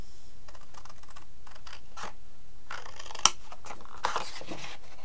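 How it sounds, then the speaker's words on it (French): Scissors snipping through paper while a craft pouch is cut from a stamped pattern, a run of close, crisp slicing strokes with a sharp click near the middle and a few softer cuts toward the end. "On va couper toute cette partie-là."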